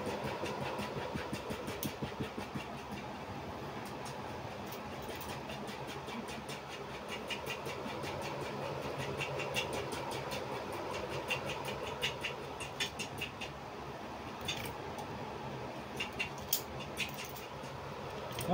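A small Tamiya Mini 4WD electric motor whirs steadily during break-in, a continuous faint high buzz with light irregular ticks and rattles, running alone with no talking.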